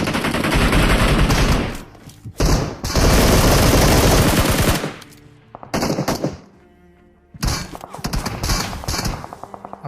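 Gunfire in the video game PUBG, incoming from both front and rear: loud rapid automatic bursts, several sustained volleys separated by short quiet gaps, close and dominant with no talk over them.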